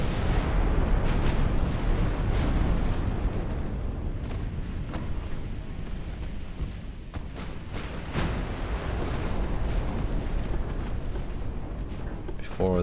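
Battleship main guns firing in the naval warfare game Ultimate Admiral Dreadnoughts, a British 1900 campaign battle: dense, continuous rumbling broadside booms and explosions rolling on loudly throughout, with a steady heavy low roar.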